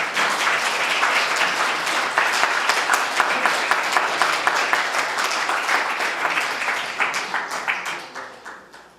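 Audience applause greeting a history author at a book publication ceremony and lecture, dense sustained clapping from a crowd that holds steady for several seconds and then tapers off near the end.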